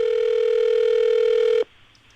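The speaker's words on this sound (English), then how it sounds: "Come on, Knobsy, pick up the phone." A steady telephone ringback tone sounds while a call is placed. The single sustained tone holds for about a second and a half, then cuts off abruptly into near silence.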